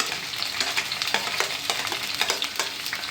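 Shallots, curry leaves, green chilies and ginger sauté in hot oil for a fish curry with mango, giving a steady close sizzle broken by repeated scraping stirs, with no talking.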